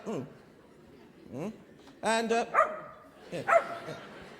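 A dog barks in a few short bursts, close and moderately loud, with yips and whimpering, amid quiet background sound from a musical stage production.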